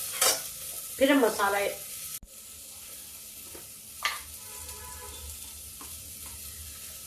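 Onions fry in a pan with a steady low sizzle and an occasional scrape of a spoon, while someone talks briefly near the start.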